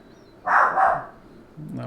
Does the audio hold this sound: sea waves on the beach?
no